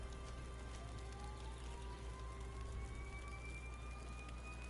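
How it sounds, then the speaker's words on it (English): Fire engine sirens drift in through an open window on a nice day, a faint continuous wail with slowly gliding pitch behind steady background noise. "Oh, there go the sirens."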